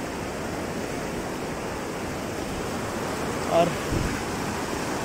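A fast monsoon-fed stream rushes at a bamboo resort near Bijanbari, Darjeeling, giving a steady, broad, loud roar of flowing water throughout, with a brief word of speech near the end.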